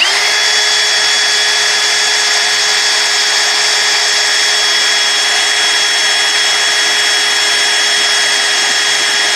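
A power drill runs continuously at a steady high whine, loud and close, with no pauses, drilling a hole while installing suspension air bags on a vehicle.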